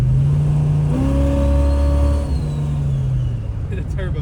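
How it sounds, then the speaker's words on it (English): A turbocharged police car of over 550 horsepower revs hard in second gear, with a loud steady engine drone whose pitch climbs as the turbo spools, then eases off near the end. "The turbo's spooling up."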